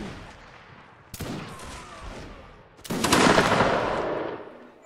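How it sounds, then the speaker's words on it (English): Musket volleys crack out at a Napoleonic battle reenactment, one sharp blast followed by a louder, longer ragged burst of many muskets that rolls on and slowly decays. "On my left and right, fire and charge, go."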